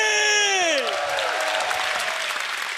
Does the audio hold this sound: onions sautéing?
no